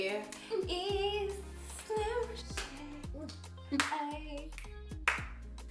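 Sharp hand claps land in a steady pattern on beats one and three under singing voices and a bass-heavy groove, several claps spaced about a second apart.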